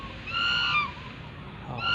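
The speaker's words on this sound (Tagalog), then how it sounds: "May gansa dito kapres ko, oh." Goose honking outdoors in a rural spot, a few tonal honks in a short burst near the start and another at the end, moderately loud against background noise.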